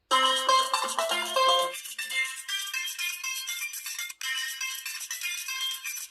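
A ringtone melody plays from the stereo speakers of a Coolpad Legacy Brisa, a budget Boost Mobile phone, loud and close, with a brief gap near the four-second mark and no voices.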